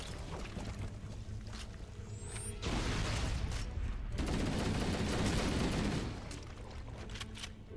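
Sustained gunfire from a firefight in Halo: Combat Evolved, dense bursts swelling loud through the middle and easing toward the end, with no talking.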